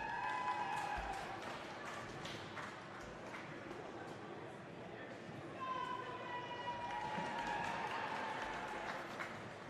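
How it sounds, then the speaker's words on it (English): Crowd noise and scattered cheering in an indoor rink as under-16 inline hockey players warm up at a national club championship, a steady murmur with occasional whistles and skate clatter, voices talking throughout. "Just hearing a bit of noise from the crowd cheering on the under-16s as they just do their warm-up."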